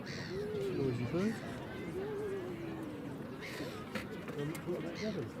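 Several rasping caws from a crow ring out at intervals over steady conversation and background murmur outdoors.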